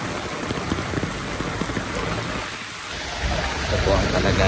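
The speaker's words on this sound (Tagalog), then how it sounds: "Lakas ang ulan." Steady, heavy monsoon rain pours down in a dense broadband hiss during street flooding in Manila, with floodwater splashing and churning close by; the downpour grows louder toward the end.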